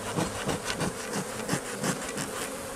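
Honeybees, a breed known for gentleness, buzz around an open hive in a dense, close swarm drone, with brief louder passes as individual bees fly near.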